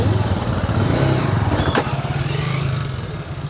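Motorcycle engine, a Yamaha R15 or GPX Demon, runs loud and close throughout with a steady low rumble that dips and wavers slightly toward the end.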